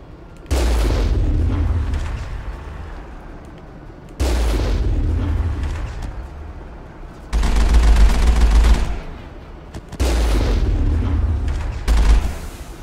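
Guns firing up ahead in the video game Mass Effect: four loud booming bursts of heavy gunfire, each several seconds long and separated by short pauses, close and with no talk.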